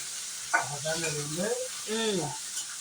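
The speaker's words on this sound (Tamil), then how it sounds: "எலும்பு இல்லாத கறி வச்சு நம்ம வறுக்கிறோம்" Boneless chicken pieces fry in hot oil with a steady, soft hiss of sizzling, while a person talks over it.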